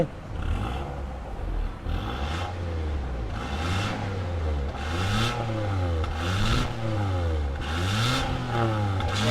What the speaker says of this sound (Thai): มาเร่งฟังเสียงกันด้วย เงียบเหมือนเดิม อ่าเบิ้ลหน่อย